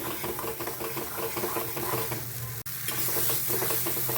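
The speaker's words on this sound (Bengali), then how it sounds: "এবারে গ্যাসটাকে মিডিয়ামে রেখে এইভাবে নাড়িয়ে নিতে হবে" Bean paste (shim bhorta) frying in a pan over medium gas as it is stirred, with a steady sizzle and scraping strokes of the spoon, close and continuous with one brief break; no voices.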